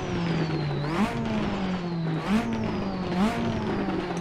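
Citroen Xsara rallycross car engine in a racing simulator game, revving loudly and climbing in pitch through the gears, with three distinct upshifts marked by brief drops and rises, steady and close throughout with no talk.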